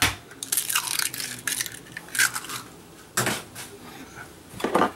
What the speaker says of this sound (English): now let's add the eggs. We got 2 eggs.